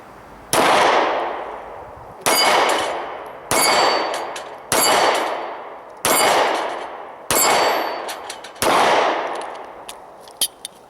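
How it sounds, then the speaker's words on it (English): A Ruger LC9 compact 9mm pistol fired at steel plates about 10 yards downrange, seven loud sharp shots spaced roughly a second or more apart, each with a ringing metallic clang and decay, with no talking. "we're just going to go ahead and shoot some steel plates downrange here at about 10 yards"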